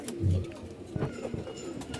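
Pigeons coo nearby in soft, low, throaty murmurs, a few rounded calls repeating over a faint background.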